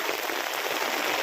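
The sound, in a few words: heavy rain during a cycling trip in Nepal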